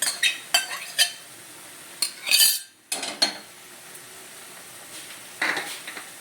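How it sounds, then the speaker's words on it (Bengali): Fried fenugreek greens go back into a pan and get stirred, with sharp scrapes and clinks of a metal spoon against the pan in uneven bursts and a faint sizzle underneath. "এখন মেথি ভাজা শাকটা যে তুলে রেখেছিলাম বাটিতে, সেটা দিয়ে দিচ্ছি।"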